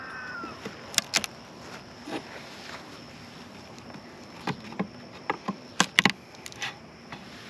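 Honeybees buzz at a top bar hive during a summer honey harvest in a steady, faint hum, with scattered sharp clicks and taps breaking through now and then.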